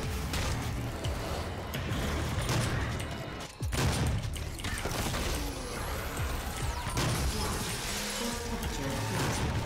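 Dense, continuous DOOM combat at Vega Central Processing, with a double-barrel shotgun and other weapons firing amid crashing impacts and mechanical clatter, loud and unbroken for the whole stretch except a brief dip near the middle.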